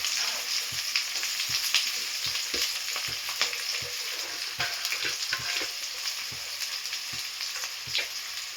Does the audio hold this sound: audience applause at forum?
no